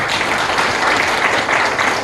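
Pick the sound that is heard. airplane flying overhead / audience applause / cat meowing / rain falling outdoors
audience applause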